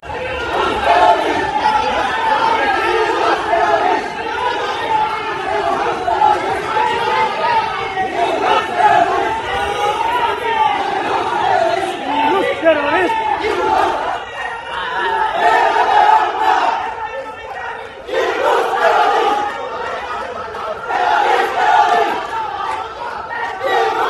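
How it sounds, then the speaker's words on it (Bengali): A large crowd at Rome airport chants slogans in loud, continuous unison, rhythmic shouted phrases rising and falling with overlapping voices and chatter throughout. "কিন্তু তারা তা না মেনে তারা স্লোগান দেওয়া শুরু করে"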